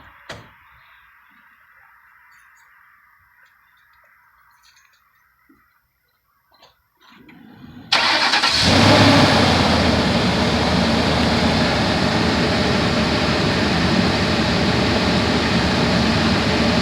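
A car engine cranks and fires up abruptly, then settles into a loud, steady idle that continues to the end, after a quiet stretch with faint ticking.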